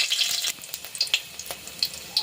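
Nigella seeds and two green chillies hit hot mustard oil in a kadai, crackling with a soft continuous sizzle punctuated by sharp little pops and spits, close and fairly loud.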